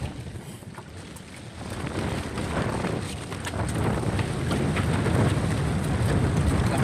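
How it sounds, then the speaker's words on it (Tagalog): Strong wind roars over open sea during a storm while net fishing, a steady broadband rush buffeting the microphone and building louder toward the end, with faint boat and surf sounds beneath. "lakas ng hangin"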